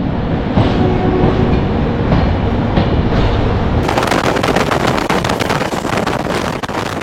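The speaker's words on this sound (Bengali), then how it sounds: "আমাদের ট্রেন কিন্তু হাওড়া থেকে 10 মিনিট লেটেই রওনা হলো গৌহাটির উদ্দেশ্যে" The Saraighat Express rolls out of Howrah toward Guwahati with a close, continuous rumble and rattling wheel clatter. The sound grows brighter and harsher partway through, and no one speaks.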